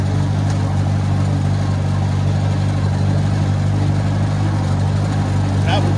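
A Farmall 404 tractor bush hogging near a steep bank, its engine droning loud and steady throughout at close range, with a faint bit of extra noise near the end.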